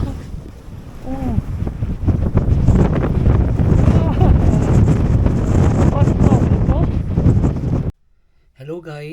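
Strong wind in rural Alaska roars and buffets the microphone with a person talking over it, loud and close, before cutting out near the end.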